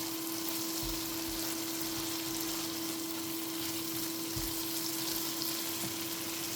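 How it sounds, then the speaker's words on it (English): Tomato passata simmers in a pan with a soft, continuous sizzle and faint bubbling, low and steady throughout, with a few light knocks and no voices. "your tomato passata. Stir it. Allow it to simmer for like 30 seconds."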